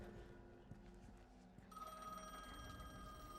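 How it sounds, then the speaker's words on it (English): A telephone in The Medium horror game starts ringing partway through with a shrill, sustained electronic trill over a low, rumbling ambient background. "Of course the phone rings."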